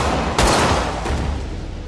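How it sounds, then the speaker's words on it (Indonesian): Gunshots in a tense film scene, a loud close crack followed by a second shot, both set against a dense, noisy background of rumbling ambience. "Samsul langsung menembak Veronica agar membuat Nick lengah"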